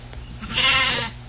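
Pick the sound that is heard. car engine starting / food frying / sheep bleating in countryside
sheep bleating in countryside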